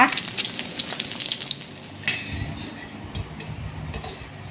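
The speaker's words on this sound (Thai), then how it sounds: "เอาไข่ของเรานะคะ ลงไปทอดให้เหลืองเลยนะจ๊ะ" Eggs fry in hot oil for a Thai son-in-law egg dish, giving a steady loud sizzle with crackling spits and a few clinks of a utensil, close by and with no talking.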